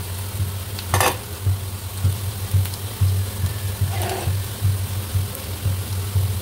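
Bitter gourd chips frying in spiced oil as they are stirred, a steady sizzle under a rhythmic low scraping of the spoon, with a couple of sharp clatters, nearby and without speech.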